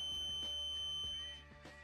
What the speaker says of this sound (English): And the buzzing noise comes from the final level of the Tupperware where it's completely filled